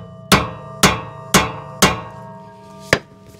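Five sharp metallic hammer blows strike the cap of a Japanese impact extractor tool while working on a Honda Odyssey's rear brakes, four in quick even succession, then a pause and a final hit.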